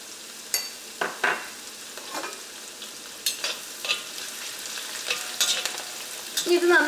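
Ginger, garlic and green chillies sizzle in hot oil in a pan for tomato pickle, a steady soft frying hiss broken by sharp scraping stirs, close up with no talking.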